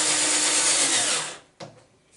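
A power drill runs steadily under load, boring a counterbore for a bolt head while building the lead ballast for a small cutter. The steady whine lasts about a second and a half, then stops, and a short clunk follows.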